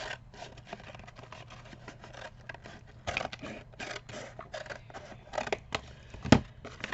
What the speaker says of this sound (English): Now all I'm going to do with this is cut off these edges.